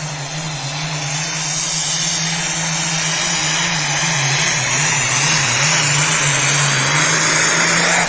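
A heavy pulling tractor engine revs high at about 4,500 RPM at the starting line, holding a loud, sustained roar with a slightly wavering pitch, steady and close throughout.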